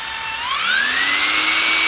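A Bosch 11248EVS rotary hammer drill running alone, a steady loud whine that rises in pitch as the motor spins up, then holds a high, even drone.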